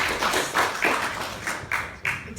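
Scattered audience clapping breaks out at a Pine Grove council meeting, a run of uneven, close hand claps over about two seconds with faint room noise behind.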